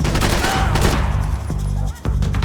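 Dense gunfire from the video game Max Payne 3: a steady fusillade of overlapping shots with loud, broad bursts and sharp individual cracks, continuous over a couple of seconds, with faint voices underneath.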